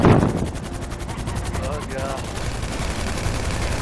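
Rapid bursts of heavy machine-gun fire from an Annihilator helicopter in GTA V, loud and sustained over a steady rotor-like roar, with rattling repeated shots filling the whole stretch.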